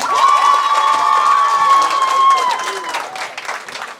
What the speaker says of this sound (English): can we give a round of applause for Aden?